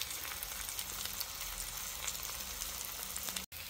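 Wild mushrooms sizzle and crackle as they fry in a pan: a steady, dense hiss of popping fat that runs throughout, close by and fairly loud, with no talk.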